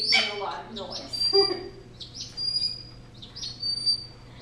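A hawk at a raptor center calls excitedly in a string of sharp, high chirps and thin whistled cries, close and fairly loud, with a person's voice briefly audible at the start.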